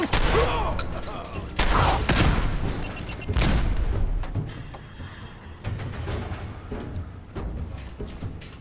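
Grenades explode in a video game: three or four loud, heavy booms land about a second and a half apart, each with a long crackling rumble, then quieter scattered bursts of gunfire follow.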